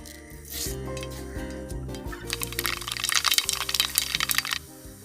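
Mustard seeds splutter in hot sesame oil for lemon pickle, starting with faint scattered pops that build into a dense burst of crackling and then fade, over a low steady background hum.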